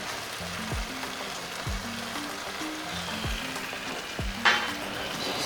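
Gizdodo stirring in a frying pan after thyme, white pepper and curry powder go in, giving a steady close sizzle with a few soft scraping strokes and one brief louder clatter near the end.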